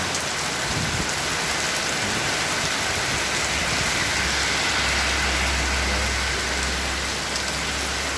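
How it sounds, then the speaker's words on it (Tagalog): Heavy rain pours down in a dense, continuous roar with a low rumble underneath, steady from start to finish. "Grabe ang ulan."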